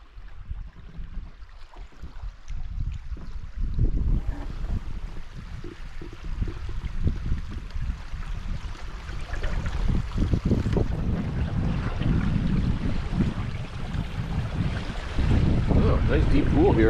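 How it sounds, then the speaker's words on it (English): Canoe paddled down a river with rapids and deep pools in cold weather, steady water wash and wind rumble throughout with irregular splashing strokes, close and continuous with no talk. "I'm gonna paddle for a while."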